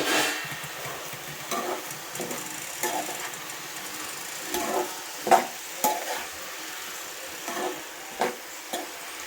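Onions frying in a pan for a potato and bitter gourd curry, a low steady sizzle broken by repeated stirring scrapes and soft utensil knocks at an irregular rhythm, close by with no talk.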